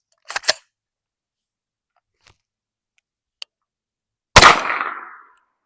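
An Armalite AR pistol with an 8.5-inch barrel fires a single 9mm round at ballistic gel, a sharp loud crack with a short echoing tail, preceded by faint clicks and handling noises in an otherwise quiet outdoor range.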